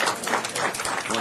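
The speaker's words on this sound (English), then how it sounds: "please join and give him a big round of applause for Michael Hughes." Brief burst of applause at a city council meeting, a dense, even patter of clapping hands filling just over a second, moderately loud with no voices over it.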